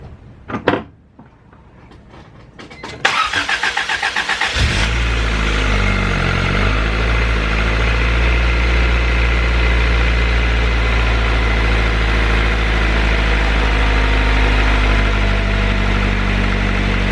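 A Honda Civic engine cranks, catches after a few seconds of starter whir, and settles into a steady, loud idle with a low rumble close by; there is no talk.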